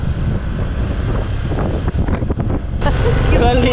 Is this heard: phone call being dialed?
no